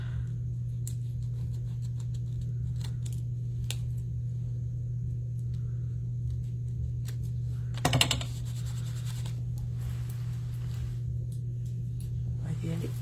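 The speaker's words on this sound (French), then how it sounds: "On va y aller avec les ciseaux" Scissors snip through paper during scrapbooking: faint, sparse clicks and a brief rustling burst midway over a steady low electrical hum in a quiet room.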